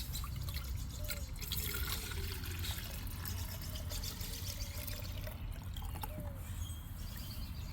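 Nematode mixture poured from a container into a lawn sprayer's reservoir outdoors, a steady close liquid pour and trickle with faint drips running the whole time over low outdoor background noise.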